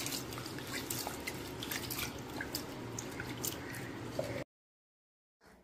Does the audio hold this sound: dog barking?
no